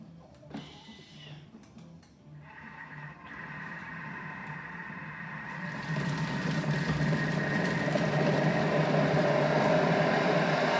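A Thermomix chops potato, zucchini and onion for green vegetable soup: after a few clicks and quiet handling, the blade motor spins up into a loud, steady whirring grind that builds and holds to the end.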